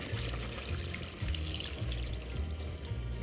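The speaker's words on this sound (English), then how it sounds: "And we put another 2 quarts of water to cook all of this." About two quarts of water pour steadily into a pot of lentil and cabbage soup, a continuous splashing trickle close by with no talking.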